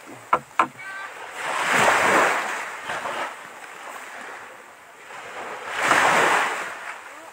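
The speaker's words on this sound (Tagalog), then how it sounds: "Malaki yung dagat ngayon, guys. High tide." Sea waves at high tide in Balud, Masbate surge and wash ashore in two broad swells, with wind buffeting the microphone and a couple of sharp knocks at the start.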